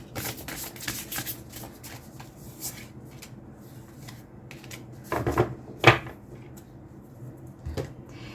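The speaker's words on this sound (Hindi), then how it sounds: "I think I can pull out 2 more cards, थोड़ा सा और इन डेप्थ और कुछ पता चल जाए लुक्स के लिए." Tarot cards shuffled and drawn by hand, soft riffling and flicking with light taps and slaps, a few sharper card snaps near the end, close and quiet with no talking.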